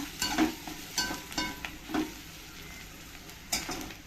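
Onion-garlic masala with garam masala powder being sautéed for jackfruit curry in a home kitchen, with a soft steady sizzle and a few scraping stirs of a spoon against the pan at irregular intervals, close by and with no talking.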